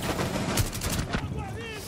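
Gunfire in the PC game Rainbow Six Siege: a string of sharp, loud shots cracks out in quick succession over a steady background, with voices faintly underneath.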